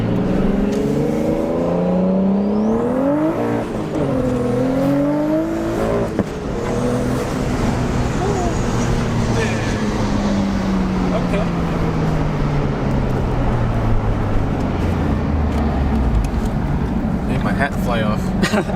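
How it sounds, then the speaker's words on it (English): Car with an RB25 engine and a new HKS GTRS turbo driving hard, with rising and falling revs through gear changes and a loud, continuous engine and turbo roar; a voice speaks briefly over it. "you hear the turbo a lot. A lot of turbo noise for sure"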